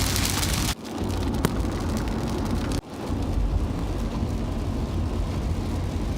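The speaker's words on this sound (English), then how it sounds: "It's like there's nothing, and then all of a sudden there is a ton of rain" Dense, steady rain roars throughout, a constant broadband hiss with a couple of brief dips, heavy and close with no voices.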